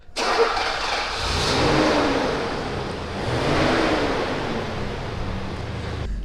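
A Mercedes 500 SEC widebody on the move, with steady engine drone and road roar from inside the car. It swells twice as the throttle opens, then settles back.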